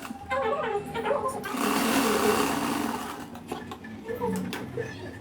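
A sewing machine runs steadily and loudly, stitching the folded edges of lining and main fabric together for a lehenga waistband on a half saree made from a single saree, with a continuous whirring hum and small shifts in pace.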